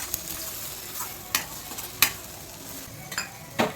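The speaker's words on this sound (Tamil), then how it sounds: "இப்போ நம்ம முட்டையோட ஒயிட் இருக்கு இல்லையா அதை சேர்த்துக்கலாம் இது நல்லா கிளறி விட்டலாம்" Egg white for egg thokku is stir-fried in a pan, a soft steady sizzle marked by several distinct scraping and tapping strokes of a spatula at irregular intervals.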